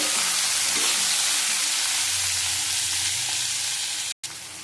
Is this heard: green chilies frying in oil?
yes